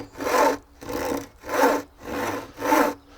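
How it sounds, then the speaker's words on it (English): A hand saw cuts through a piece of wood in five steady, rhythmic strokes, each a loud rasping push separated by short pauses, close up with no talking. "I use my knuckle to rest my saw on, and then when I draw back, it doesn't go up and down the piece of wood."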